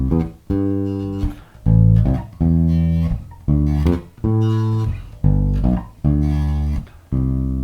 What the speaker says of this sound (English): So we're going to use the notes of the arpeggio for the bass line.